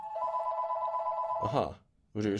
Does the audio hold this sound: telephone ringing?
yes